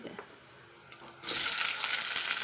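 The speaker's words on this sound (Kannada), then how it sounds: "ಈಗ ಇದಕ್ಕೆ ನಾನು ಇವಾಗ ಈರುಳ್ಳಿಯನ್ನು ಹಾಕ್ತಾ ಇದ್ದೀನಿ" Sliced onions go into a hot pan with cloves and coriander seeds. After about a second of quiet, a loud, close, steady sizzle of frying bursts in and continues to the end.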